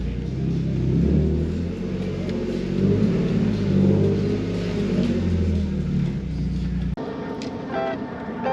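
A BMW E36 engine runs at a steady, droning idle with a slight rise and fall in revs. It cuts off abruptly near the end, leaving quieter background rumble.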